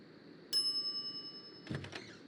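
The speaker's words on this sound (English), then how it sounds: "some idiot's already ringing that stupid bell" A storekeeper's counter bell in the Monkey Island video game rings with one bright metallic ding that decays slowly, followed by a short burst of clattering sounds.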